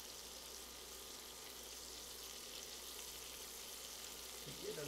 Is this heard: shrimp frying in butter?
yes